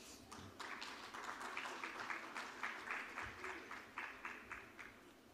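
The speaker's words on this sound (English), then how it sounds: "let us have another round of applause for him" A conference audience at a session on African debt and the global debt architecture gives a round of applause, a run of quick, fairly even claps that stays soft and somewhat distant.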